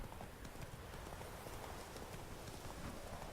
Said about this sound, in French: Go, petit poney, go.